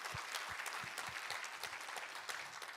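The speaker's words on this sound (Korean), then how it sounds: "우리 하나님께 감사와 영광의 박수 올려드리겠습니다." A church congregation applauds during a Korean worship service, a faint, continuous wash of many hands clapping with some individual claps standing out, heard at a distance.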